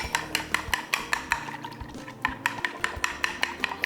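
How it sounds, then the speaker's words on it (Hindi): Egg whites and yolks whisked in a bowl for a fish dish, quick rhythmic clinks of utensil against bowl with soft wet slapping, close and steady, no talk. "बीट इट अप नाइसली, ताकि जो एग वाइट्स हैं और एग योक्स हैं वो अच्छी तरह मिक्स हो जाएं"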